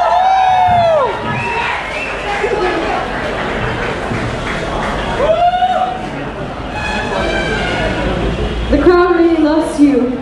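A crowd cheers at the Northeast Food Festival in Bangalore, with loud, close whoops and shouts rising and falling in several swells while excited voices call out over the crowd noise.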